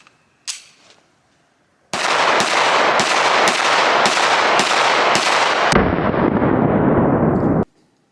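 Springfield SA-35 pistol, just back from repair, fired outdoors: one faint early pop, then about seven loud, evenly spaced sharp shots in quick succession, ending in a sustained loud roar that cuts off abruptly.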